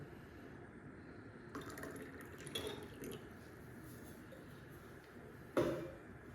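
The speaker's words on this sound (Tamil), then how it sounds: "இதில் வாட்டரை ஆட் பண்ண போகிறோம்." Water poured into a container during a lab temperature-measurement experiment, heard as faint, brief splashes and trickles in a quiet room, with one sharper splash near the end.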